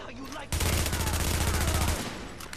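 Rapid automatic gunfire from The Division video game, a sustained burst of shots lasting about a second and a half after a brief pause, loud and close with faint voices beneath.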